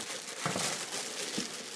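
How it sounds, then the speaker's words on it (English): A plastic bag crinkles and rustles as it is pulled off a newly delivered machine, with two brief louder crumples over a steady low hiss, fairly close. "I'll just take the plastic bag off."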